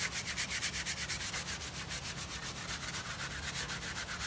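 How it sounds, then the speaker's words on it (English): A paintbrush scrubs varnish vigorously onto an oil painting of a dog, making a rapid, rhythmic rasping rub that continues steadily throughout, close and moderately quiet, with no speech. "I'm using a vigorous scrubbing motion"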